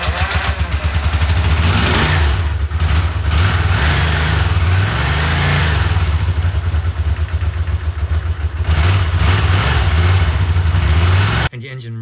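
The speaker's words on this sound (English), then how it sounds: "I just started the engine anyway." A Honda CX500 motorcycle engine with ignition and carburetor problems runs loudly up close with a throbbing, uneven rumble, rising and falling slightly before cutting off near the end.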